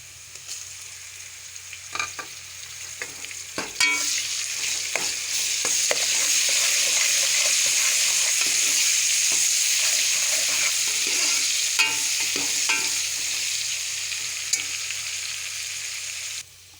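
Garlic frying in hot ghee with lightly browned onions for an aloo keema matar, a steady loud sizzle with scraping and clicking spoon strokes as the pan is stirred, with no voices.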